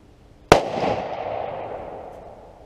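A Mossberg 500 Compact Cruiser smooth-bore pump shotgun fires a single loud, close blast, followed by a long fading outdoor echo.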